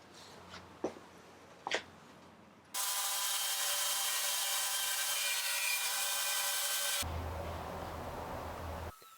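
After a few soft knocks and rubs, a power saw bites into a live edge wood slab to trim its center section for a coffee table, running loud and steady for about four seconds close up before cutting off.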